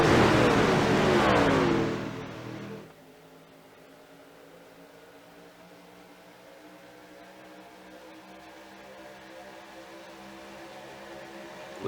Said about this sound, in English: they all hit the gas, all 18 of these trucks right on the throttle